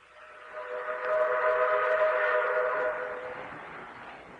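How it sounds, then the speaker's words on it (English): A distant train whistle sounds one long, steady, soft tone that swells and then slowly fades, with no voices over it. "Train somewhere, whistling."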